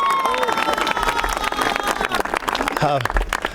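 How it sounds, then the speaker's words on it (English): A crowd claps and cheers together in a busy burst at a road reconstruction event, with voices shouting and talking mixed in close by. "Let's give them a round of applause as well."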